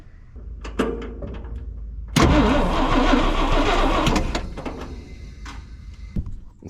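A 1961 International Harvester B-163 bus engine cranks over after a couple of short clicks, catches with a loud roar and runs rough for a few seconds before cutting off, near and alone with no talk.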